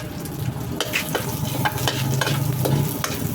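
Onion stir-frying in used oil in a pan, a steady sizzle with repeated scraping and stirring strokes close by, no talking.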